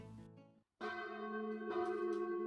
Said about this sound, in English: they could hear the church bell.